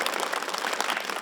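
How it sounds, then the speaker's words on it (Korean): An audience at a televised YG idol trainee unit-battle contest breaks into dense, steady applause, with loud, close clapping filling the whole brief moment. "여러분 박수 한번 주십시오."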